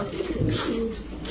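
Saharanpuri pigeons in a pigeon shop give a short, close, throaty coo, with faint background murmur.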